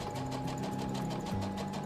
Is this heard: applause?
no